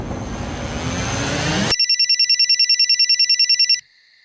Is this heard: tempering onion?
no